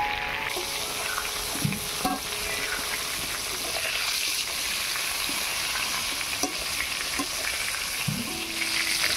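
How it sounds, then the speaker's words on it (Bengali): Pieces of pointed gourd sizzle steadily in hot oil, with occasional scraping and stirring sounds from a utensil, close and continuous throughout. "এবার পটলটাকে ভালো করে ভেজে নেব"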